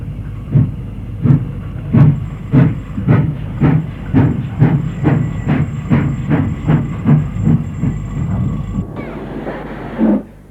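An LMS Stanier Black 5 4-6-0 steam locomotive, number 45302, chuffs in a strong, steady rhythm of regular exhaust beats over a continuous hiss of steam, close and loud, with a brief harsher burst near the end.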